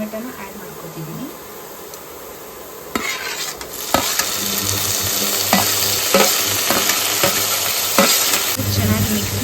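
Tomato and onions fry and sizzle in a pan for an egg curry, with a steady crackle and repeated scraping stirs growing louder after the first few seconds; no one speaks.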